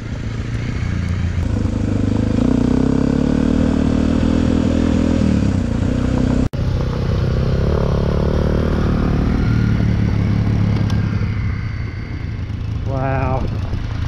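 A motorcycle (CRF Rally, DR250 or KLR250) riding a loose, marbly gravel road with big stones in New Zealand, a steady loud engine drone under wind and rattling clatter, with a voice speaking over it.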